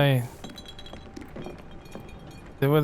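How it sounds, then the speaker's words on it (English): A few light clinks and rattles of glass knocking over, faint and brief, between bits of someone talking. "Did I knock the wine of glass?"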